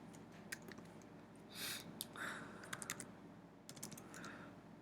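Keys on a computer keyboard tapped in short bursts and scattered clicks while entering graphing data, fairly close and quiet against a low steady room hum, with no voices.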